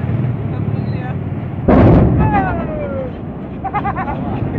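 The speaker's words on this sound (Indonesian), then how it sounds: "Barusan terjadi ledakan di pada tangki kapal yang docking ini." A single sudden heavy boom from an explosion in the tank of a docked tanker ship at Belawan, Medan, cuts through a steady rumble and slowly fades, followed by distant raised voices.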